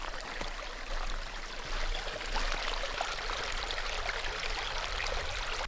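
A river rushing out of sight below in Scandinavia, a steady broad wash of flowing water heard from a distance, continuous and even with no voices.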